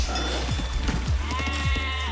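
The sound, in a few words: sheep bleating in a video game (Age of Empires-style match)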